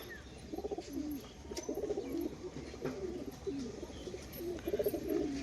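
A pair of pigeons cooing close by, soft rhythmic throaty coos repeating in bursts over a low background hum.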